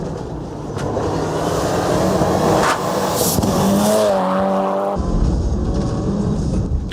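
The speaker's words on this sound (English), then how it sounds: "And that's a heavy nose-down landing for the Mitsubishi and John Spencer." A Mitsubishi rally car races up a gravel hillclimb at Waimate, its engine roaring loud and close with revving and gear changes, then cutting to a steadier drone.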